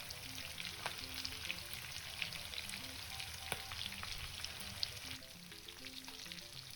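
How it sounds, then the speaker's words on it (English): Breaded chicken fries in a pan with a steady, quiet sizzle and scattered small pops and crackles, continuous throughout with no talking. "And we're gonna fry for about 7 minutes."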